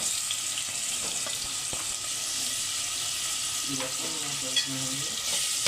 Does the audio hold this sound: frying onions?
yes